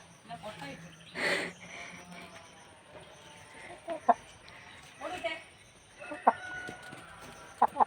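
A hen clucks in short, scattered bursts nearby, with occasional louder sharp notes, while people talk in the background.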